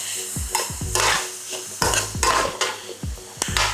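Onions, red peppers and garlic for paella fry in a hot pan over a steady sizzle, with a spoon knocking and scraping against the pan in quick repeated strokes, close and loud.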